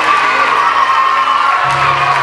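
A crowd of students cheers and shouts loudly and steadily at a school government investiture ceremony, with whoops rising above a continuous wall of noise.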